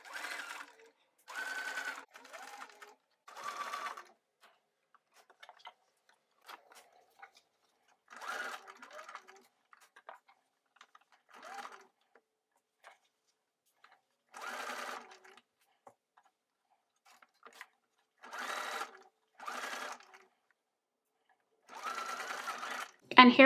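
A sewing machine stitches a sleeve seam on a jacket at the armscye curve, running in several short bursts with pauses between them, close and moderately loud.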